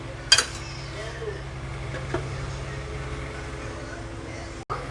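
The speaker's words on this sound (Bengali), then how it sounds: "আমি এবার ঢাকাটা দিয়ে দেব।" A metal lid clanks onto a cooking pot with a sharp clink near the start, then a softer knock a moment later, over a low steady kitchen hum and a speaking voice.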